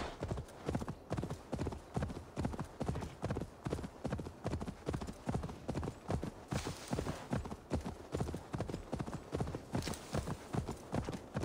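A horse's hooves clip-clop on the ground in Assassin's Creed Valhalla in a steady galloping rhythm, close and continuous for about eleven seconds.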